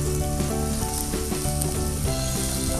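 Red and green chillies frying in hot oil for garlic paneer, a loud continuous sizzle with crackling bursts and no talk.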